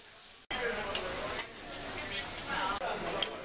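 Pork belly sizzles on a grill at a Korean BBQ restaurant, a steady broadband hiss that cuts in abruptly and runs unbroken under restaurant chatter.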